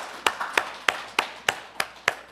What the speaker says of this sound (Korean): 우리 감사하다 박수합시다.